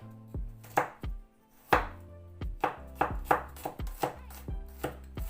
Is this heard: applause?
no